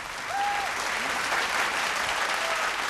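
Steady applause from a singing-competition audience, a continuous wash of clapping that holds at an even level throughout.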